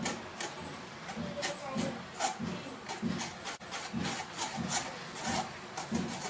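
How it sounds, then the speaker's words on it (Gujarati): Gram flour (besan) being sifted through a sieve, a soft rhythmic scraping and shaking repeated in quick regular strokes, faint and close. "મેં અહીંયા આવી રીતે ત્રણ વાટકી લોટ લીધો છે આપણે ચાળી અને એમાં મિક્સ કરી દઈશું"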